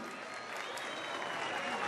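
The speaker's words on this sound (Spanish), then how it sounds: "Fuerte aplauso del público, bien bonito, para los soldados de Colombia" Crowds lining the streets of Tunja, Colombia applaud soldiers marching in a parade, a steady distant wash of clapping that stays even and faint throughout.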